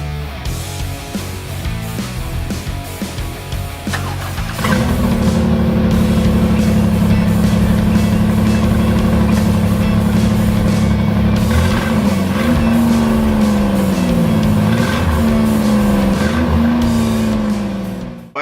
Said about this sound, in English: There was an exhaust leak on the van.